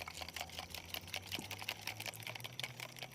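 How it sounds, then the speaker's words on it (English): A whisk rattles quickly against a bowl while salad dressing is mixed, giving steady, fast clicking strokes at a soft, close level with a faint background hum. "Whisk it all together."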